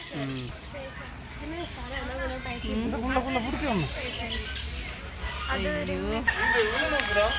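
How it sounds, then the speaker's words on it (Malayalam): Chickens cluck repeatedly and a rooster crows nearby, the calls rising and falling over a steady outdoor background. "ഇതേത് നാട്ടിലത്തെ കോഴി"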